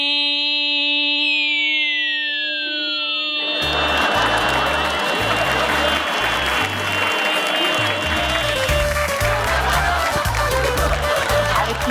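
Loud applause from the audience of a Marathi television show breaks out after a few seconds and continues strongly over a pulsing music beat.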